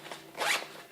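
A quick zipper pull closes the red tourniquet pouch on a Vertx SOCP tactical fanny pack, one short close rasp rising and fading in under a second.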